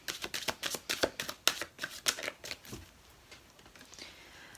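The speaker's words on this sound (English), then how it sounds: "One card out. Two cards out." Tarot cards riffled and snapped in a quick run of crisp, close slaps and flutters over about two and a half seconds, then tapering to soft handling and near quiet.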